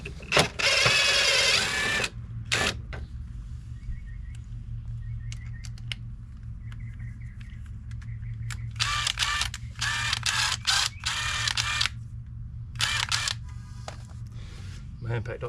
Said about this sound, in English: my impact don't sound too healthy.